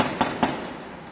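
Rifle shots fired during a dynamite gang's raid on a bank in a small town in Paraná, Brazil: two sharp, loud cracks about a fifth of a second apart, followed by a fading echo with no voices.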